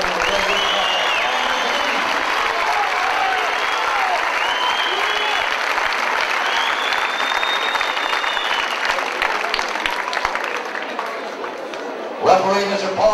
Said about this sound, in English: both boxers deserves a big round of applause